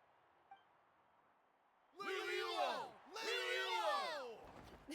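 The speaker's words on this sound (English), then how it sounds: "Hear that? The exhilarating cheers of the crowd." A video game crowd in Genshin Impact cheering in two loud, rising bursts of whoops and shouts, after a quiet, near-silent opening.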